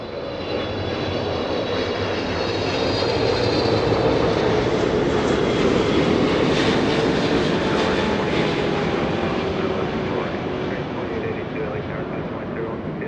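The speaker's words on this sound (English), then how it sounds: "Flaps full down on that 777 as it touches down right in front of Bat Bridge." A Boeing 777 jet airliner landing at LAX with flaps fully down, its engine roar loud and sustained throughout as it touches down close by, with a voice talking over it.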